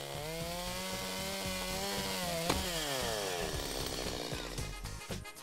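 Chainsaw cutting through a fallen log from below and then from the top, the engine droning loud and steady, its pitch dipping as the chain bites into the wood, then revving up and trailing off, with no voices.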